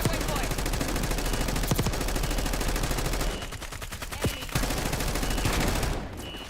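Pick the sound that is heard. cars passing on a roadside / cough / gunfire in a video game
gunfire in a video game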